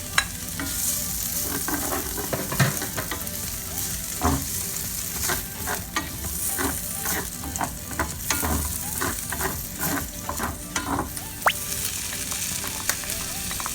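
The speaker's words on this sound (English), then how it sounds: "Then put the ham and mix it." Ham frying in a pan with garlic and onion for a penne pasta sauce, with a steady sizzle and repeated scraping stir strokes throughout, no voices.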